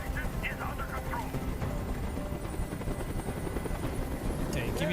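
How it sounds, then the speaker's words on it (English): A helicopter flies overhead in a film scene, its loud, steady rotor roar filling the whole stretch while voices talk over it. "Tell that helicopter to get out of here."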